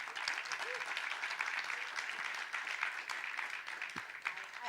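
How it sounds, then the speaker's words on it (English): Sustained audience applause for the speaker Pedro at a DeSci Day conference session: a dense, continuous wash of clapping from a large crowd, steady throughout at moderate loudness. "please, a round of applause to Pedro, but you already have it"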